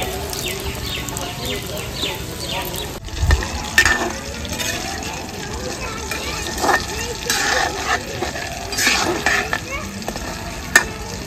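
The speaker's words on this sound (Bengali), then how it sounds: "সব ফিঙ্গারগুলো আমার ভাজা হয়ে গেছে।" Bhetki fish fingers fry in hot oil until golden brown, giving a steady close sizzle with occasional stirring and clinks of utensils against the pan, while a voice talks over it.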